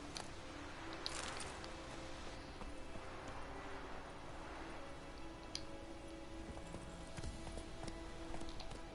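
Roach, a horse in the Witcher video game, trots along with steady, rhythmic clip-clop hoofbeats, moderately close, over a low background bed with no talking.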